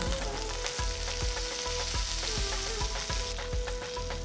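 Mustard seeds, chopped ginger, green chilies and curry leaves fry in hot oil in a pan, giving a loud, steady sizzle broken by regular low thumps of stirring, with no voices.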